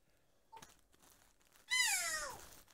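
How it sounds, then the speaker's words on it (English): Pet cats meowing indoors, a short faint chirp followed by one loud, close, drawn-out meow that falls in pitch, with no talking. "My cats."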